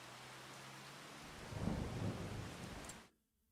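Steady rain falls with a low rumble of thunder swelling in the middle. The storm is close and fairly loud, and it cuts off abruptly near the end.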